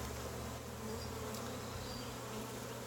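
Honeybees buzz during a beehive inspection, a dense, steady hum from many insects close by, with no talking.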